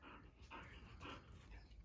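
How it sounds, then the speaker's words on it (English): An excited dog breathing heavily, giving rhythmic panting bursts roughly every half second, very faint and distant beneath a steady background noise. "If you hear my dog, he's just breathing heavy."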